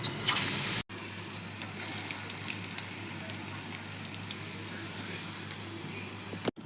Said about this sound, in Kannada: ಬೋಂಡ ಕಾಯ್ತಾ ಇದೆ